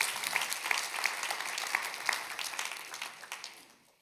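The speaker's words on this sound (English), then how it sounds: "we can clap about that" A church congregation breaks into broad applause celebrating a changed life, with dense clapping holding steady before thinning out and fading over the last second.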